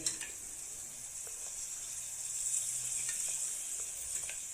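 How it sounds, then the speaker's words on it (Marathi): A pan of tender jackfruit vegetable is stirred as it sizzles quietly, a soft continuous hiss with occasional light spoon scrapes, close but faint, no talking. "आता आपण झाकण काढलं आहे आणि भाजी ढवळून घेऊया"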